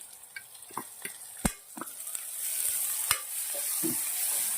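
Tomatoes and green peas sautéing in hot oil with softened onions for an instant moong dal locho, giving a steady sizzle broken by scattered stirring clicks and scrapes of the spoon against the pan.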